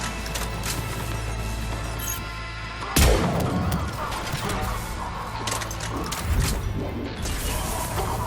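Explosions and crashing blasts in the sci-fi shooter game Mass Effect 3 during a Cerberus lab raid, with a loud burst near the three-second mark over a dense, continuous roar of game combat noise and a second thud later.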